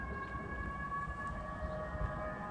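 A police car siren wails faintly in the distance, holding a steady tone over low background rumble, heard from a cemetery.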